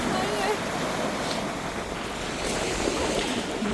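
Strong wind blows over the water during a fishing outing. It buffets the microphone as a loud, steady roar mixed with a surf-like wash, and faint voices sound underneath.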